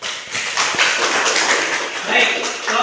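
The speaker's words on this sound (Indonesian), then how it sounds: "Oke, tepuk tangan." Classroom applause from students, a short burst of scattered hand claps mixed with chatter and voices.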